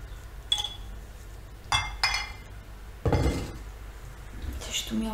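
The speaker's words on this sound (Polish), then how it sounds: "wodorotlenek potasu mam rozpuszczony, smalec mam lekko podgrzany, więc mieszam jedno z drugim." Metal spoon clinking and scraping against a container while warmed lard is stirred together with dissolved potassium hydroxide for homemade soap, a few separate knocks and clatters close by with quiet gaps between.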